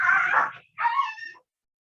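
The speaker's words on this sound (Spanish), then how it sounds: "perdón, mis perritos se están peleando." Small dogs fighting indoors, two quick bursts of high yips and whimpering snarls separated by a brief pause, close and fairly loud with no talking.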